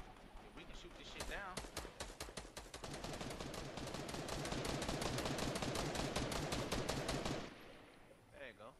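Rapid automatic gunfire from a video game, a long sustained burst of dense, loud shots lasting several seconds before cutting off, with a voice briefly talking at the start and end.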